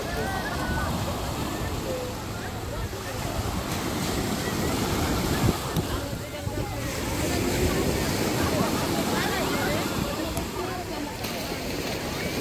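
Wind-driven sea waves wash steadily onto the shore along the Qatar coast, a continuous close surf roar with heavy wind buffeting the microphone throughout.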